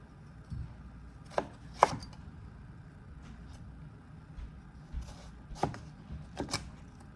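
A knife cuts pickling cucumbers into spears on a board. Sparse, close, crisp chops come singly and in small pairs, separated by quiet pauses.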